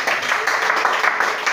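A church congregation applauds in praise during a worship service, a dense, steady wash of many hands clapping at close range for a brief moment.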